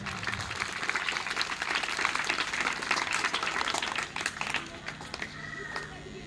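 Loud audience applause at a rally, dense and sustained clapping that thins slightly toward the end with some voices mixed in.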